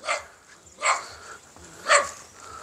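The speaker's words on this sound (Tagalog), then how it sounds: "May aso pa." A dog barks three times at roughly one-second intervals, sharp and moderately distant, with quiet background between barks.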